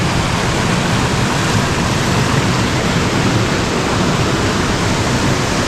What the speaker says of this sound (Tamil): ஏன்னா வந்து தண்ணி போகிற சவுண்டு வந்து அதிகமாக இருக்குது.